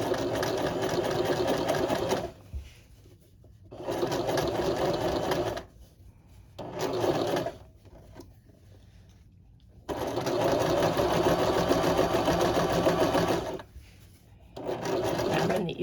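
A sewing machine stitches and reinforces the crotch seam of a garment in several bursts of steady rapid whirring, each lasting a few seconds, separated by short pauses, close and alone.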